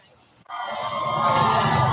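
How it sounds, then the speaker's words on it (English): A cheering crowd of invited supporters greets Kamala Harris inside the Northampton Brewery, with loud, sustained shouts and whoops that burst in after a brief quiet moment and build steadily. "Vice President Kamala Harris stormed into the Northampton Brewery in front of a cheering crowd of invited supporters"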